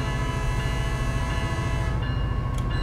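A locomotive horn sounds in the Train Sim World 5 train simulator during a session with rain, fog, thunder and lightning. One loud, sustained blast of layered tones holds steady over a rumbling train for nearly three seconds.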